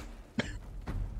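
Two short, close coughs, the first sharper and the second rougher, sound over a low steady background.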